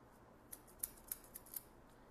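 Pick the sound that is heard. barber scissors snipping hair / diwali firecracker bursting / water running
barber scissors snipping hair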